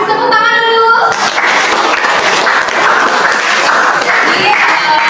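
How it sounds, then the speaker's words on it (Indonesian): Classroom applause during a teaching lesson: a brief tone at the start gives way to loud, close, continuous clapping from students that carries on for several seconds, with some voices underneath. "tepuk tangan dulu"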